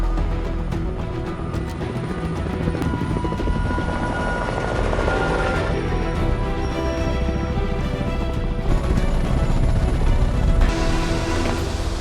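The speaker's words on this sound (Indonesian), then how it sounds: "Terlihat sebuah helikopter dikirim menuju Manawan" A helicopter flying in a film scene, with a dense, steady rotor thrum and engine roar that stays loud and continuous throughout, with no speech over it.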